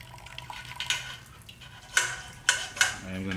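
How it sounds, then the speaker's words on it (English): Beer wort for a piloncillo holiday ale is poured into a sanitized fermentation keg, giving a soft, steady watery rush punctuated by a few louder splashing bursts near the end. "now I'm gonna transfer it over to my fermentation keg"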